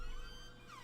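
A human voice mimics a wailing siren, a sustained pitched tone that bends upward near the end, close and steady for under a second with no spoken words.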